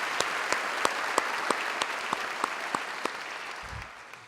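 Audience applause at a State of the City address for a performing arts coalition. A broad wash of clapping carries a few distinct, evenly spaced loud claps near at hand, and the sound tapers off at the end.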